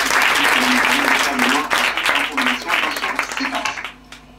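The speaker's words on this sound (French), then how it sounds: "Oui, on va applaudir" An audience applauds at an improv theatre show during a Paris improvisation festival, a dense burst of clapping that thins and fades near the end, with voices speaking over it.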